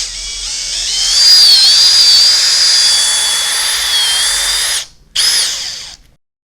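A power drill with a mixing paddle whirs steadily while blending two-part Kerapoxy epoxy grout, paste and hardener together. The motor holds a high, even whine for several seconds, briefly stops, restarts, then cuts off.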